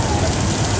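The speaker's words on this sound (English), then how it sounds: "Then I guess we are going to get a little rain this morning." Light rain during a studio tram tour at Universal Studios Hollywood, a soft steady hiss of drops pattering on surfaces, close and continuous for a brief moment.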